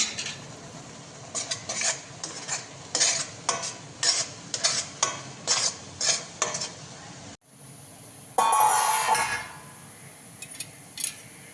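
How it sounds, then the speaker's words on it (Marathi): Turmeric and coriander powder spice masala sautéing in hot oil for mutton paya, with a steady sizzle broken by repeated spoon scrapes against the pan, then a louder burst of frying near the end. "तो आपण तेलामध्ये छान परतून घेऊया।"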